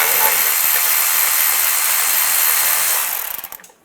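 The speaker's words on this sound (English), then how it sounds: "On the side where the starter is, there's another 10mm bolt. Just use a 10mm socket." A 10mm socket on a powered tool spins out a bolt beside the starter of a 2007-2013 Chevy Silverado during a timing chain job, a steady close whir for about three seconds that cuts off into a few clicks.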